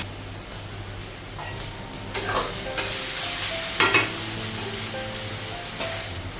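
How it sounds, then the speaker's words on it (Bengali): Onions fry until browned in a pan, a low sizzle under repeated loud scraping strokes and clanks of a spatula against the metal, spaced a second or so apart. "পেঁয়াজটা লাল করে ভাজা হয়ে গেছে,"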